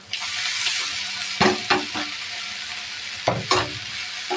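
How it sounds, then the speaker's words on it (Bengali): Noodles frying with spices in a pan are stirred, giving a steady loud sizzle broken by several sharp scraping stirs of the utensil against the pan, with no talking. "নুডলসটা মশলার সাথে মিশিয়ে নেব।"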